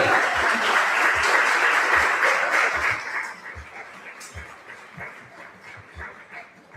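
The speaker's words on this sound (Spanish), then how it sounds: "recibamos por favor a Aranza con un fuerte aplauso" An audience at an 'Ori Tahiti dance gala applauds to welcome a dancer, loud clapping that fades after a few seconds, while a dog barks repeatedly and rhythmically throughout.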